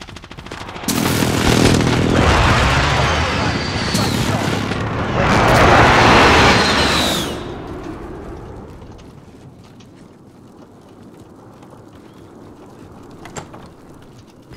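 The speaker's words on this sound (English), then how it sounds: "Be advised, friendly precision airstrike inbound." Airstrike explosions in the video game Warzone, a broad roaring burst that swells, peaks again around the middle, then fades into a low rumbling tail, with game voice callouts mixed in.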